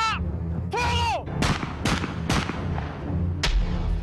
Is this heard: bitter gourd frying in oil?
no